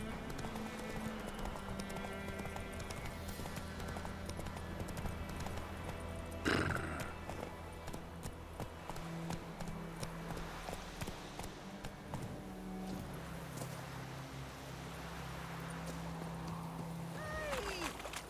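Roach, the horse in The Witcher 3, gallops with a steady, continuous clip-clop of hooves and a brief whinny near the middle, all under a constant game soundscape.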